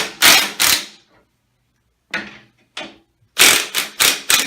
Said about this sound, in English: take our 3/4 inch impact, loosen this up